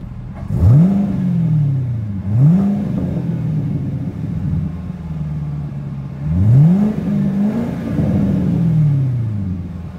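A Shark Gray 2015 Corvette Stingray C7 engine is revved several times in short bursts, each climbing sharply then falling back to a rumbling idle, close and loud with no talk.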